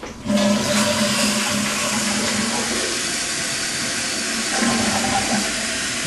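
A toilet flushes loudly and continuously, a rushing gush of water with steady hissing that holds for several seconds before easing slightly.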